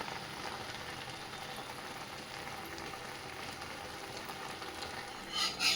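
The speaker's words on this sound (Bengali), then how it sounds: "কিমা রান্না প্রায় হয়েই এসছে।" Minced meat (keema) cooking in a pan gives a steady, dense sizzle and frying hiss that stays even throughout, with a couple of louder stirring scrapes near the end.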